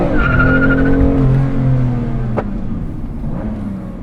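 A car accelerates hard on an outdoor exhaust test track, its engine note sweeping up with tire squeal near the start, loud and close, then fading as it pulls away.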